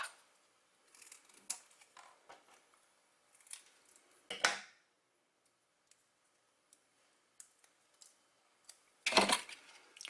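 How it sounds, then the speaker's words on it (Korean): Scissors cutting double-sided tape up close: a few sharp snips and crisp crackling cuts, with one louder snip near the middle and a burst at the end, separated by quiet pauses and faint handling ticks. "가위를 이용해서 양면 테이프를 잘라주세요"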